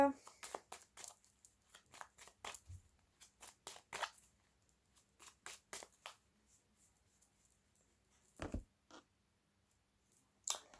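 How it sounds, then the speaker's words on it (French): Tarot cards are shuffled and cut by hand in a series of quiet, crisp riffling flicks and soft slaps, irregular bursts spread across the span, with a voice speaking softly in between. "Allez, on mélange encore un peu, on va faire la coupe."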